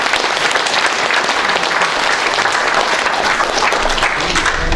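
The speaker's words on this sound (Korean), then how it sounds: "뒤에서 일어나시고 박수 한번 보내주시기 바랍니다" Sustained audience applause at a symposium held in a hotel hall, with guests standing and clapping in a dense, even wash of hand claps that stays strong throughout.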